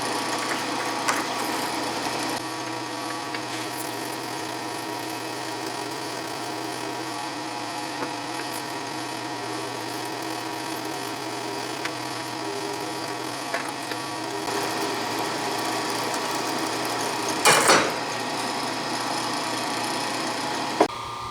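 A steady mechanical whir of a 5/16-inch solid carbide drill cutting metal at low speed during trailer repairs runs continuously, with a brief sharp scrape near the end.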